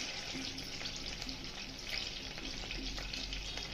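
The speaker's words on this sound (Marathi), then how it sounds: "मोहरी चांगली तडतडली की त्याच्यामध्ये जिरे टाकायचे" Mustard seeds crackle and sizzle in two spoons of hot oil in a kadhai over a gas flame, a steady, fairly quiet frying hiss with small pops throughout and no talking.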